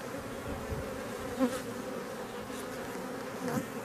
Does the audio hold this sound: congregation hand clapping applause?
no